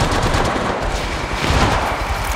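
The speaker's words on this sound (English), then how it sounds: "They're shooting at me. I am taking fire." Gunfire in Apex Legends Mobile: dense, rapid automatic bursts, loud and close, crackling continuously with no pause.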